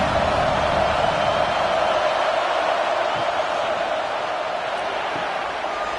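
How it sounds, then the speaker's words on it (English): College football stadium crowd early in a game, a constant wide wash of roaring noise and cheering that stays loud and steady throughout, with scattered shouts and whoops rising out of the din. "This crowd bringing the energy and noise early."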